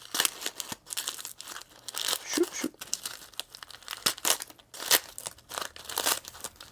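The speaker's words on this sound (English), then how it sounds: "as you guys hear me just crunching up some paper" Paper packaging from a Battletech mail delivery crunched and crinkled up by hand, close and fairly loud, in irregular bursts of crackling and tearing; a voice mutters briefly.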